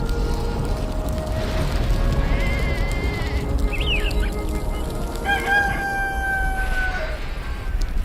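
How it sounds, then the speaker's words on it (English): A rooster crows in the video game Black & White 2, several drawn-out calls over a steady background of game ambience and other farmyard animal sounds. "This rooster wakes me up every single day."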